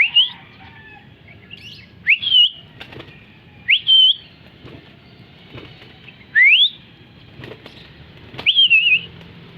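A green African bird with orange legs on a rooftop gives short rising whistled chirps every couple of seconds, with light wing flutters and faint background hum.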